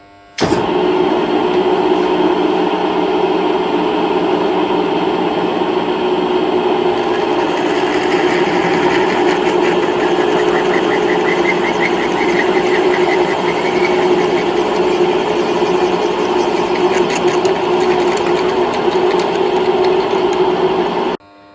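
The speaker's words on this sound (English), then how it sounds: "we will be lowering the mill speed a bit just to counter having such a big drill bit" A milling machine at lowered speed drills with a large 9.5mm bit, droning steadily for a long stretch, a loud mechanical hum with a high whine and some grinding texture as it cuts.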